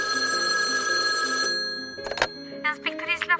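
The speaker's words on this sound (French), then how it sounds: "la sonnerie du téléphone retentit." A telephone bell rings steadily and loudly for about a second and a half, then stops, followed by a brief click and a voice answering the call.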